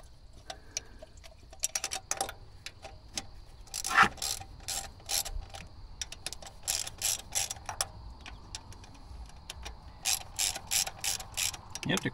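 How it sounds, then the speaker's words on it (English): A ratchet tightens the radiator fan bolts on a Chevrolet Silverado, clicking close up in repeated quick bursts with short pauses between them. "just tighten each one up a little bit at a time"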